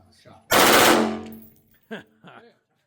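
A Split Fire RS rifle with a drum magazine fires one loud, close burst of rapid automatic shots that rings out and decays, with brief bits of voice after it.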